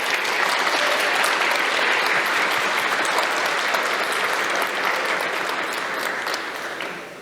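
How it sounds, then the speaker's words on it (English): An audience at a cybersecurity talk gives loud, sustained applause for the speakers, a thick continuous wash of clapping that tapers slightly at the end. "a big round of applause for our speakers"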